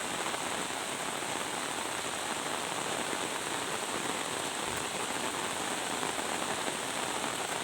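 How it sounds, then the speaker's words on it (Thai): Heavy rain pours down at night in a constant, even hiss of drops striking surfaces, unbroken and fairly close for the whole stretch. "ฝนตกช่ำๆนะคะ"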